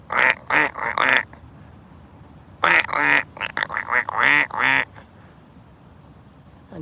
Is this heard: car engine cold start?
no